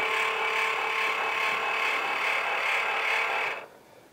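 An antenna rotator grinds and whirs steadily at close range for about three and a half seconds, a harsh rasping mechanical noise that then cuts off abruptly.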